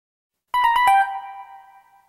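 A telephone rings in a short burst of four quick electronic tones that then decay with a lingering ring, loud and close, alone without any voices.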